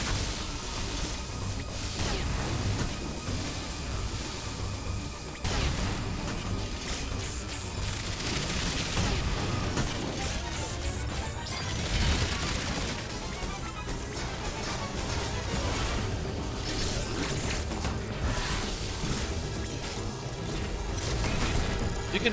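Power bomb explosions in Metroid Dread, a dense, continuous barrage of booming blasts and crackling bursts that stays loud and steady throughout without any speech.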